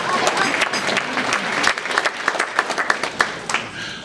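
Audience applause at a Chicago Teachers Union rally speech, a dense burst of clapping that swells to a loud peak and then thins out into scattered claps and cheers over about four seconds.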